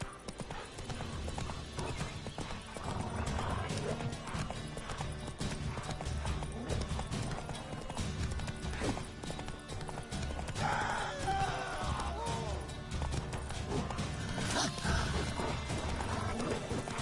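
Roach the horse gallops in the video game Witcher 3, with rapid rhythmic hoofbeats continuing throughout and a whinny partway through over steady background ambience.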